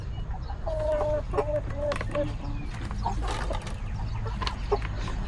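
Chickens cluck in short, repeated calls close by, over low rustling and background noise.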